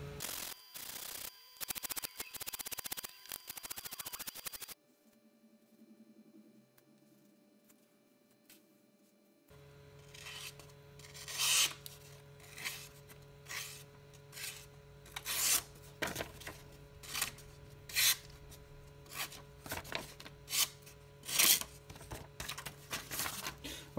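Hand sharpening a puukko knife blade on a beginner build, rhythmic scraping strokes of steel across a stone, irregular then steadier repeated passes, near and clear with a quieter pause in between.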